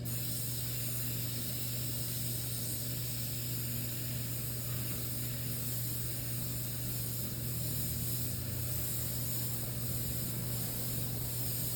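Airbrush spraying red paint in a Cul Obsidian-style art piece, a steady, close, even hiss of compressed air that runs unbroken throughout, with no talk.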